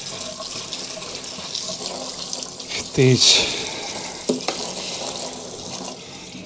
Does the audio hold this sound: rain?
no